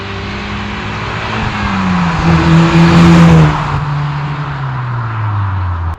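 A 9th-generation Honda Civic Si with a Fullrace catback exhaust revs up loudly nearby, its deep exhaust note climbing and falling as it drives past, then settling into a steady rumble.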